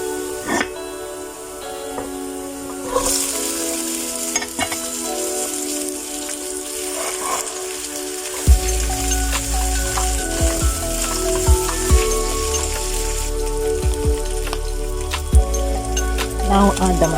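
Soup bones for a stew sizzle and crackle in hot fat in a pot, a loud steady frying hiss with popping bursts that grows fuller partway through.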